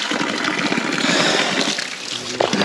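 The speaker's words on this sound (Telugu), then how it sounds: "Super natural spring. సహజ సిద్ధమైన వాటర్ ఫాల్." Water from a natural spring waterfall on a Himalayan winter trek rushes in a steady, dense splash close by, with no talking.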